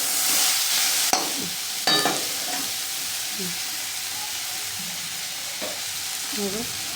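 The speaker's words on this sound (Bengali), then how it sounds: "নাড়াচাড়া করতে করতে যাতে সেটাকে নরম করতে হবে" Onions for piyaz posto are stirred in a pan until soft, a steady sizzle broken by a few sharp scrapes of the spoon and brief clinks against the metal.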